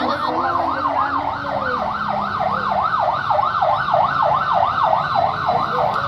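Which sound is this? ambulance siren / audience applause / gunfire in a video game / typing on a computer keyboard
ambulance siren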